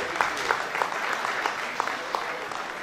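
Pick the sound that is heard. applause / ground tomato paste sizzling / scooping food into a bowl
applause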